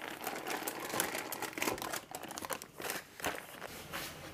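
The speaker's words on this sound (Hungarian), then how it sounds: "a papírt azért mindenképpen szedjük le" Baking paper is peeled off a chestnut cake, a continuous close crinkling and crackling with uneven rustles and small tearing bursts, fairly soft and with no speech.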